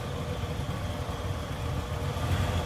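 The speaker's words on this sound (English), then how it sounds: "this sounds like you'd expect a stock 79 Lincoln Town Car to sound" A stock 1979 Lincoln Town Car V8 engine idles with a smooth, steady low burble, moderately loud and continuous.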